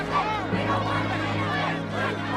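A crowd of people murmurs and bustles nearby in a steady, continuous babble, with overlapping voices and movement filling the space throughout.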